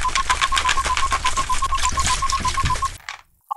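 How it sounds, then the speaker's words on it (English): A Perlini cocktail shaker shaken with ice gives a steady, rapid rattling clatter for about three seconds, then stops abruptly, followed by near silence. "Now shake it up."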